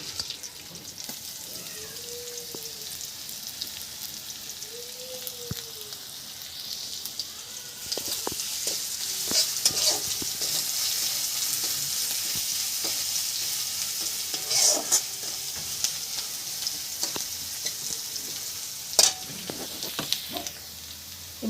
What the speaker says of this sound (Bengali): এবার রসুনটা দিয়ে দিচ্ছি।